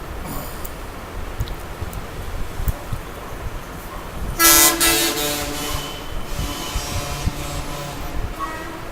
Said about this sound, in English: my flat is next to the main road, so you can hear all this honking and all in the late night also